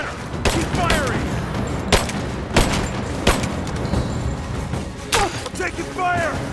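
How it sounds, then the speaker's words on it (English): Rapid gunfire bursts from the Rise of the Tomb Raider video game, several sharp cracks spaced through the scene with voices calling out over the shooting. "Gunner, keep firing!"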